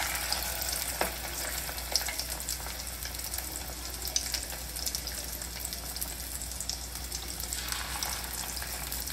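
Fish roe fritters fry gently in a pan over low flame, a dense, continuous close-up sizzle and crackle holding steady throughout, with faint occasional clicks.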